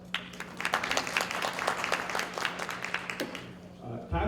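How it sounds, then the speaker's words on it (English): Audience applause at a city council by-election candidates' debate in Edmonton, a steady patter of many hands clapping for about four seconds with a constant hum underneath, ending abruptly. "So please give him a round of applause."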